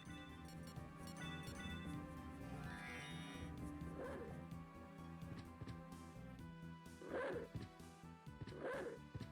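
Dog barking in Castlevania: Symphony of the Night played on an Xbox emulator, several harsh, crunchy barks with the last two loudest, over the game's music and effects.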